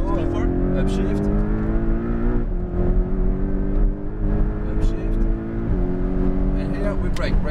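A Porsche Cayman GTS on a race track accelerates hard, its engine note climbing, dropping briefly at each upshift and climbing again. An instructor talks over the steady, close engine roar.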